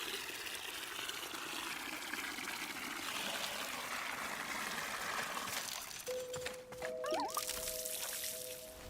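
Water being collected in the game Wanderstop, a soft steady pouring and trickling that ends in a brief rising bubbly tone.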